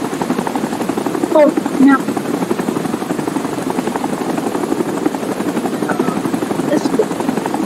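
A helicopter in the video game Rising Storm 2: Vietnam, its steady rotor thump and engine drone continuous throughout at moderate distance, with a player speaking briefly over it and occasional gunfire.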